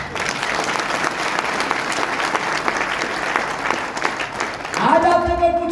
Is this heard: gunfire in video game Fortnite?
no